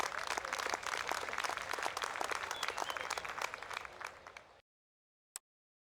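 A large golf tournament crowd at TPC Scottsdale's Stadium Course breaks into loud, dense applause that fades and cuts off after about four seconds, followed by a single brief click.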